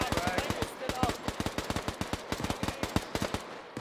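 Rapid automatic gunfire from a game battle with a tank, a fast, steady stream of sharp cracks close by, with occasional voices under the shooting.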